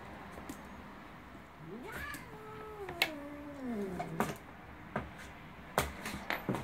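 A cat gives a long, drawn-out meow with a falling, wavering pitch, then some shorter cries, set against quiet room noise and a few faint clicks and knocks.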